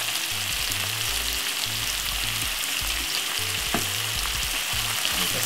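Saltfish stirred in a hot pan with coarse pepper and ketchup, a continuous close sizzle broken by rhythmic scraping and knocking of the spoon against the pan.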